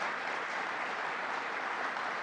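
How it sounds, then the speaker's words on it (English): A crowd at a gubernatorial briefing in Syracuse applauds Randy Wolkin, regional council co-chair, an even, continuous wash of clapping at moderate distance with no voices over it. "let's give a round of applause to Randy Wolkin"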